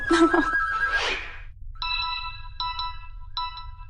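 A telephone rings in repeated electronic bursts, clear and fairly close, after a brief jumble of other tones at the start.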